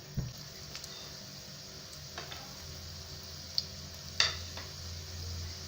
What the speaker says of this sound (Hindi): पैन में हम ऑयल डाल लेंगे 2 चम्मच। इसमें सबसे पहले हम कुटी हुई लहसुन ले लेंगे, ये डाल लेते हैं।